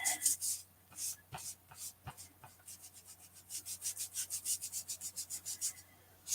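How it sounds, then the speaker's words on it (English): Scrubbing back and forth on a paper card to smooth a colored line: close, quick rubbing strokes, scattered and uneven at first, then a steady rhythmic run of brisk strokes. "I'm scrubbing back and forth just to get the line a little straighter, crisper, smoother"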